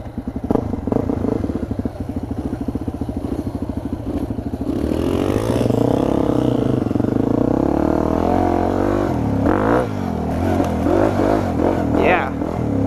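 A Yamaha WR dirt bike engine revs and pulls hard while riding off-road near a mud pit, loud and close with rising and falling throttle, rattling clatter and wind noise throughout.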